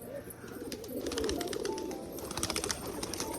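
Pigeons coo softly on a rooftop: a few low, rolling coos repeat in a steady rhythm against quiet outdoor background noise.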